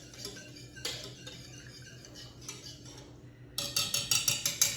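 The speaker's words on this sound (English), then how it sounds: "I'm just going to whisk it lightly" Lightly whisking crumb cake batter ingredients in a bowl: a run of quick, bright metallic taps and clinks builds toward the end, with softer scattered clatter before it, close and fairly quiet.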